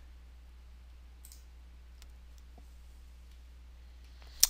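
A computer mouse clicks once, confirming a dialog in review software: a single faint, sharp click near the end, heard alone over a quiet low hum.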